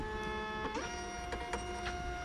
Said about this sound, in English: I'm going to hit print.